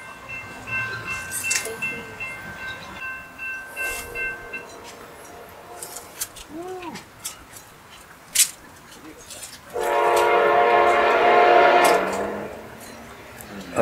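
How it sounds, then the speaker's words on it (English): A local freight train passes near a garden art store, its rumble swelling to a loud, sustained roar in the latter half, with speech and scattered outdoor noises before it arrives. "we got the local train coming by"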